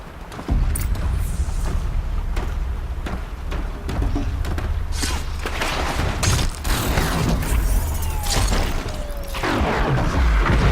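A Watcher robot machine approaching in Horizon Zero Dawn, loud mechanical clanks, creaks and whirring servo sounds with booming game effects, continuous and close.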